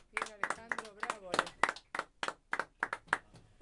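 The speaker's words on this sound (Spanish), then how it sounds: "Un aplauso." Live applause marks a radio station's 25th anniversary broadcast, a few people clapping sharply in uneven bursts while voices speak and cheer over it.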